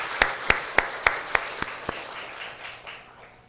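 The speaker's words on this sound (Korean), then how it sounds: "하나님 앞에 영광의 박수 올려드리겠습니다" A church congregation claps together in a crisp, evenly spaced rhythm of about seven sharp beats, then the clapping loosens into a fading wash of scattered applause in a reverberant hall.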